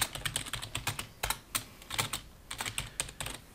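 Quick bursts of keystrokes on a computer keyboard entering a field name in Revit software, close and crisp, with brief pauses between clusters of taps and no talk.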